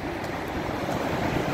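Stormy sea off Arkhipo-Osipovka, with a continuous roar of rough waves and surf, broad and steady with some wind buffeting, heard alone for a short stretch.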